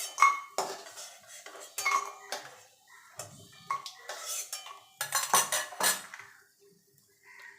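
Fried lentil dumplings (bori) are lifted out of a frying pan with a metal utensil, giving a run of clinking, scraping clatters at an uneven pace, close by and moderately loud.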